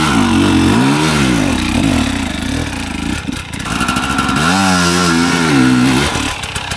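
A dirt bike engine at an outdoor riding training session revs and accelerates from a start, its pitch rising and falling in repeated surges, loud and close throughout.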